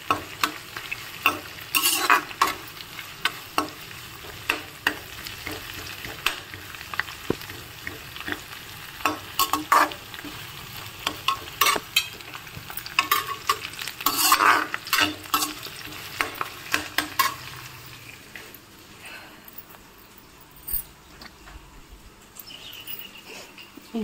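Onions and curry leaves fry in a pan with a crackling sizzle, punctuated by frequent loud stirring clatters close by, quieter near the end and with no talk.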